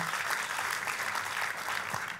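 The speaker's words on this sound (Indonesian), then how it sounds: "tepuk tangannya boleh yang paling meriah buat Yesus Tuhan kita" A church congregation gives steady, fairly quiet applause heard from a distance in a reverberant hall, the clapping continuous and even throughout with no voices standing out.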